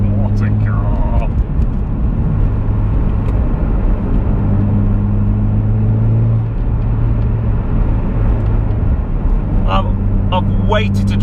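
A Mitsubishi Evo X FQ400 engine droning steadily from inside the car while driving, a low constant hum with shifting tones and brief chirps near the end.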